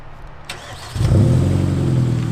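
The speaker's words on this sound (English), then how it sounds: "let me turn it on real quick and show you guys how the exhaust sounds" A Kia K5 Optima engine cranks briefly via remote start, then catches and settles into a loud, steady idle nearby.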